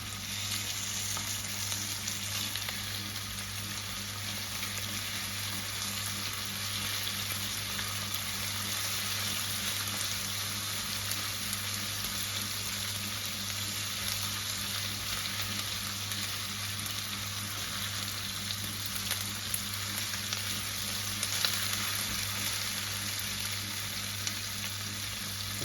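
Ginger garlic paste fries and caramelizes in a pan with a steady, even sizzle and hiss that continues unbroken with no talking.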